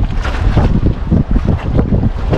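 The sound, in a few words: boat engine running on the water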